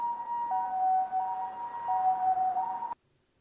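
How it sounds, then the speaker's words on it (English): Distant siren in the Memories Off visual novel game, a steady wavering wail running for about three seconds over a background hum, then cutting off into near silence. "Suddenly, I thought I heard a siren in the distance."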